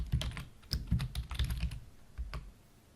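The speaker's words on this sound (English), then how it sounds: "I'm going to type in the title" Rapid keystrokes on a computer keyboard as a slide title is typed into Articulate Storyline software, a quick irregular burst of close clicks that slows and stops near the end.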